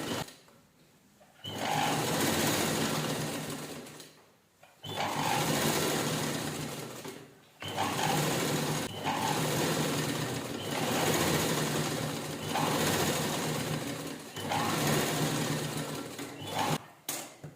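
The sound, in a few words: sewing machine stitching around a fabric shopping bag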